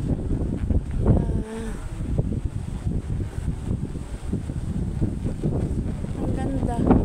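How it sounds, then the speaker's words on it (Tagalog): Gusty wind at the Pililla wind farm in Tanay, Rizal, Philippines, buffets the microphone in low rumbling bursts while people talk nearby. "Sobrang lakas ng hangin"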